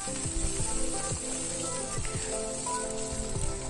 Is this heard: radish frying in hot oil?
yes